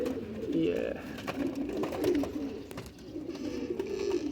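Pigeons coo in low, rolling bursts under bright midday sun, repeating steadily at close range, with people talking nearby.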